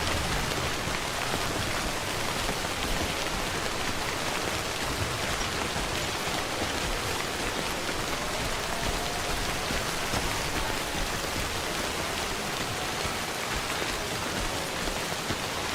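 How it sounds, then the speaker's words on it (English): Rain pours steadily in the video game Death Stranding, a dense, even hiss of falling water lasting throughout with no voices. "This rain can stop anytime."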